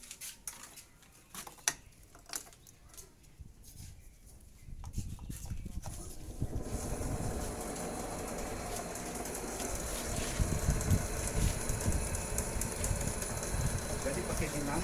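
An eco-friendly waste incinerator machine starts up partway through: scattered knocks and clatter give way to a loud, steady, broadband mechanical roar that keeps building, with people talking.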